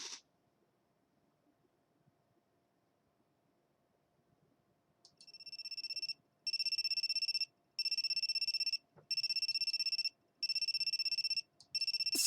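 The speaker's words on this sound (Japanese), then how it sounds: "シンから電話、初めてじゃない" Phone ringing in the video game Amnesia: Memories: after a long near-silent stretch, a bright electronic ring tone starts and repeats in steady bursts with short gaps, loud and alone.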